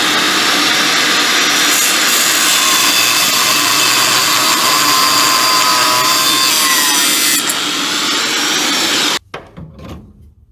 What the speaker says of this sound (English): we'll have to cut a little bit off the end of these tie rod ends